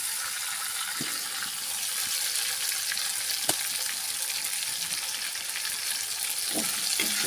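Turmeric and spice masala simmers and sizzles in a pan, a steady moderate frying hiss with occasional faint clicks and ticks of the spoon, no voices.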